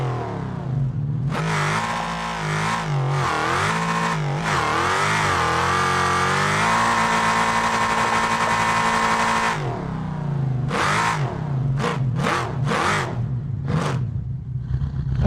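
A sand drag car in BeamNG Drive launches in third gear on sand dunes, its engine screaming up through long rising revs that hold high, then cut to a series of short, sharp throttle blips, loud and close.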